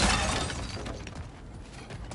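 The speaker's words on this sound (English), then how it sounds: "back to smashing through things for fun and profit" Objects smashing and shattering in God of War Ragnarok, a dense, loud burst of breaking debris that crashes at once and then settles into a scattered clatter, with no voices.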